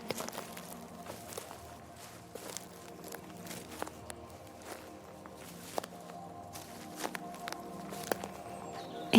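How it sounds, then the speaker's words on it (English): Footsteps crunching through leaves on a forest floor, a steady walking rhythm of soft crackling steps under gentle ambient music and background tones. "crunching along the leafy ground as he wanders through the dreamiest parts of Snufflepeep Forest"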